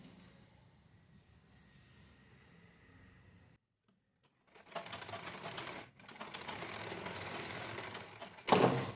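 A sewing machine stitches the second side of a lined blouse. After a quiet pause its mechanical whir starts up close and runs steadily, breaks off for a moment, then carries on, ending with a sharp clack.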